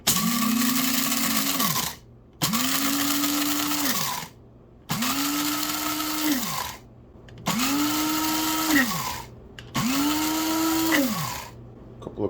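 Amazon Basics stainless steel electric coffee bean grinder grinding beans in five steady, loud bursts of about two seconds each, its motor whine rising and dipping, with short silent gaps between pulses.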